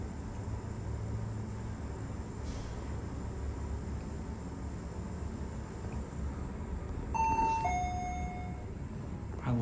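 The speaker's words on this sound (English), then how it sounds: "I love that chime." A vintage Fujitec traction elevator at a Beijing shopping mall sounds its two-note chime, bright and clear, over a steady low cab hum after several seconds of quiet running.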